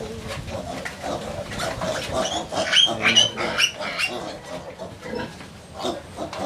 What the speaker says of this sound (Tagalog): Tapos yung mga baboy.